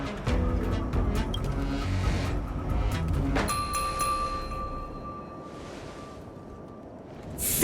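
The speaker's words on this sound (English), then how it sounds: "We could try ringing the harmonic chime." A harmonic chime rings out in a video game, a bright sustained tone with shimmering overtones that starts partway through and hangs over a low layered musical backdrop before fading.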